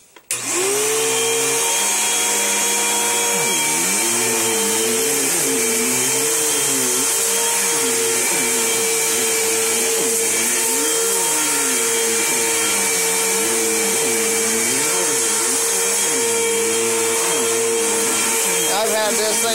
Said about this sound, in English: This vacuum has not been ran in a few months.